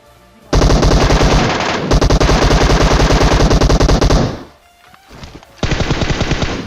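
Loud, rapid automatic gunfire from a battle royale video game, with dense bursts of shots running back to back, a brief lull, then another sustained volley at close range.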